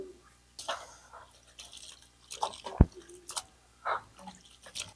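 Ebo being rinsed in water during cooking: intermittent splashes, drips and sloshing in bursts with quiet gaps between, fairly close, plus one sharp knock partway through.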